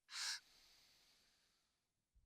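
During a yoga stretch a single deep breath is drawn in sharply and close, then released as a long, soft, fading exhale.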